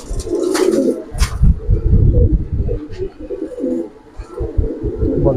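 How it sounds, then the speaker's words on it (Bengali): Giribaz pigeons coo close by in a steady, rolling series of low throaty calls, with a couple of brief higher chirps near the start. "এটা হচ্ছে মাদি কবুতর, খুব রিংওয়ালা, খুব ভালো একটা কবুতর"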